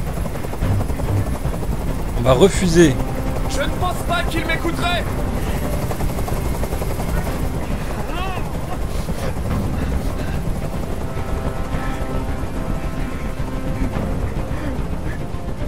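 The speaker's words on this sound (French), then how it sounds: "Je peux plus supporter ce bruit. Fais dégager cet hélicoptère" A helicopter hovering in the video game Detroit: Become Human drones steadily throughout, with intermittent bursts of gunfire-like impacts and voices speaking over the engine noise.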